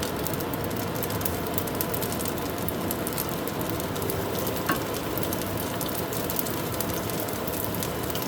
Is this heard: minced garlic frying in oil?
yes